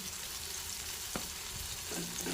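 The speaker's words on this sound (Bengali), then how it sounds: "টমেটোগুলোকে ভালো করে ভেজে নেব।" Tomatoes fry with turmeric and salt in a pan, giving a continuous close sizzle with a few soft stirring scrapes near the end.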